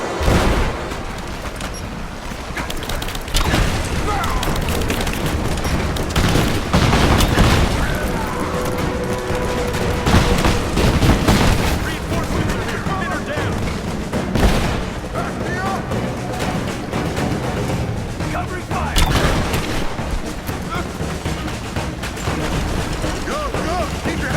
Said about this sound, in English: Hold this position! Give me suppressing fire! Now!